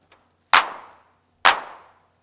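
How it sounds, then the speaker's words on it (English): Roland TR-909 drum machine clap, struck twice about a second apart: each a sharp, bright burst with a short noisy tail, dry and close, with nothing else around it. "And here's the clap on the 909."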